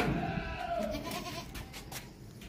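A male goat offered for Qurbani sale, about 33 kg, bleats in a wavering, drawn-out cry close by, followed by quieter shuffling and farmyard noise with no talk.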